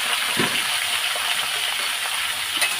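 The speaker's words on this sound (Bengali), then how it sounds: "এবার সবটাই আলু ঢেলে দেবো" Raw potatoes for a potato curry tip into a pan with a single rushing, gushing pour near the start, followed by steady sizzling broadband noise throughout.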